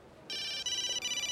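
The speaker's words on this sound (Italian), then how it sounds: "Squilla." A mobile phone rings with a bright electronic ringtone, repeated tonal pulses starting after a brief quiet moment and continuing steadily, fairly clear and close, with no talking.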